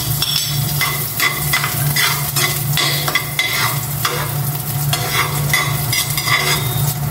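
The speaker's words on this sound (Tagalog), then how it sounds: "lagisa naman ako ng bawang para sa fried rice" Garlic sizzles and fries in a pan for fried rice, with a steady crackling hiss and repeated scraping stirs of a utensil against the pan, loud and close throughout.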